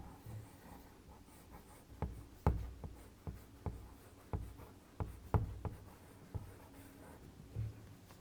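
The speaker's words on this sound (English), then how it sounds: "So let me write it this side here." Chalk-like strokes of a word being written on a classroom board during a primary science lesson: a steady series of about a dozen short, sharp taps and scratches, moderately close and fairly faint, with no talking.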